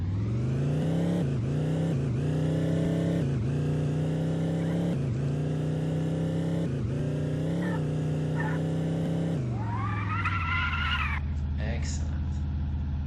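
Simulated car engine in a Unity vehicle physics demo drones steadily with repeated revs and gear-shift dips, then a higher whining rev near the end, loud and continuous with no talk.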